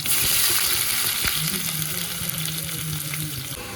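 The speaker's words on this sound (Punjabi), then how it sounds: "ਹੁਣ ਲਾਵਾਂਗੇ ਤੜਕਾ ਠੀਕ ਹੈ ਸਭ ਤੋਂ ਪਹਿਲਾਂ ਅਸੀਂ ਪਾ ਲਿਆ ਜੀਰਾ" Close, steady sizzle of cumin seeds and onion frying in hot oil for a tempering, with a few soft stirring clicks and no talking.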